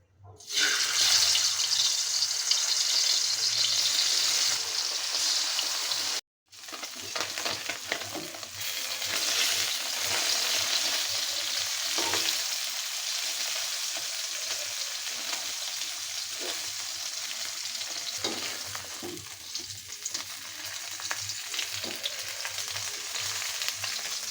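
Bata fish frying in oil, a continuous loud sizzle and crackle that runs almost the whole time, broken by one brief silence, with occasional stirring knocks and no talking.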